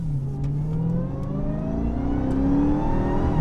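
The engine of a 2021 Dodge Charger SRT Hellcat Redeye Widebody in sport mode revs up from inside the car, a loud, steady rising drone that climbs through the gear with no talk over it.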